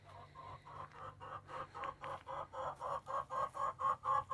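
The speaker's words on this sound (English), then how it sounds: "Oh, the chickens are singing." Chickens in a barn cluck in a steady rhythmic series of short calls, repeating about three times a second and growing a little louder.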